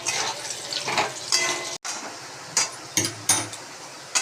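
Potatoes frying in an oil-filled pan on a home kitchen stove, with a soft sizzle under repeated clinks and scrapes of a utensil stirring and lifting the pieces, close by and with no talking.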